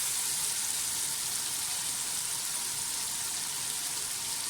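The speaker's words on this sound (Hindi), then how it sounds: "प्याज को भूनते साथ ही हरी मिर्चें डाल दें।" Onions and green chillies frying in a pan, giving a steady, even hiss of sizzling that carries on without a break.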